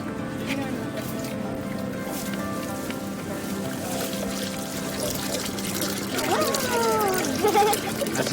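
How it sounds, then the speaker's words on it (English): Live fish pour out of a net into a container with a steady, wet rushing and slithering splash that swells louder toward the end. "That's a fish waterfall, isn't it?"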